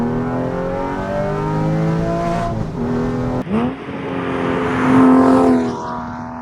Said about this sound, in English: It kind of sounds like a mix between a straight piped air-cooled 911, like a race spec one, and a GT3